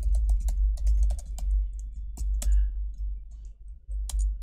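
Steady clicking of a computer keyboard as someone types, quick irregular keystrokes close up with a brief pause in the middle, over a low constant hum.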